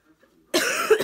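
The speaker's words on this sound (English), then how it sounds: "I'm still coughing like crazy" After a moment of near silence, a person coughs close by in a harsh, rattling burst that lasts about half a second.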